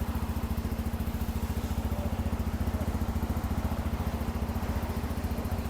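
A Bajaj Dominar motorcycle engine idles close by, a steady low, bassy thumping pulse that stays even and continuous.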